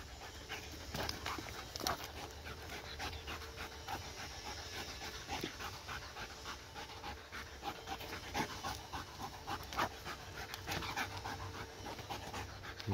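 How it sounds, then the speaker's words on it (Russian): A dog pants steadily and rapidly, close by, with small rustles and movements throughout and no talking. "Эта собака никогда не выматывается."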